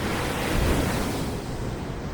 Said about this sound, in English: There's that water coming in,